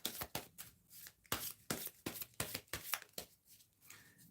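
Playing cards are shuffled by hand for a card reading, giving a quick series of about a dozen crisp riffling bursts at a steady rhythm, close and clear with no talk.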